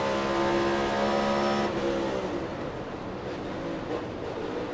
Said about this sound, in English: did you hear the car almost go? It sounded like it might have gone into neutral right there.